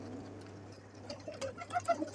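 Fancy pigeons at a loft in Kohat give soft, low coos that rise toward the end, faint over a steady electrical hum.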